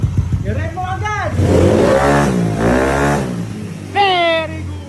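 A Yamaha NMAX 165cc scooter, brand new and still in break-in, revs in short mid-pitched bursts that rise and fall over a steady idle, with people talking and cheering close by.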